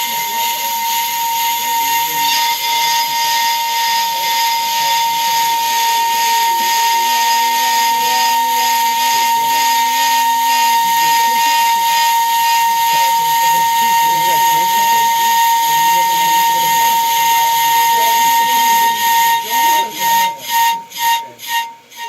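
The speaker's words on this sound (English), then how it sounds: "Yeah, that'd be the chatter marks for sure." A worn, thin brake rotor turning on a ProCut PFM 9.2 on-car brake lathe, a loud steady whine and hiss with a sharp tonal ring from chattering cuts, fluttering and winding down near the end.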